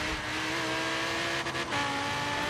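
A Lamborghini Huracan engine in Forza Horizon 3 revs up and accelerates with a steady, high, tonal roar, loud and continuous, with a brief dip in pitch midway like a gear change, and no talking.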